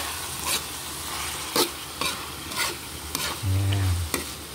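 Beef papaitan is stirred in a pot after fish sauce goes in, sounding as regular scraping strokes of a spoon over a continuous sizzle, close with no voices.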